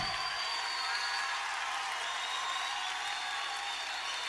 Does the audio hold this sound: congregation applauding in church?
yes